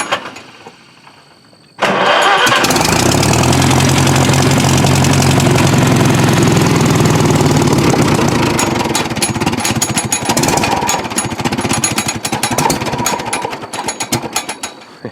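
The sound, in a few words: old Farmall tractor engine starting and running rough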